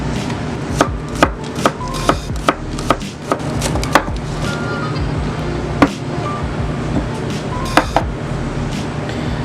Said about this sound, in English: So we're just going to cut a little bit of those.